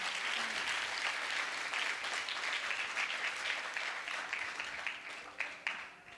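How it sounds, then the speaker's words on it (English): Sustained audience applause for a dancer at a Bharatanatyam arangetram, a steady wash of many hands clapping that thins toward the end into a few louder individual claps. "Another round of applause for Tejashree."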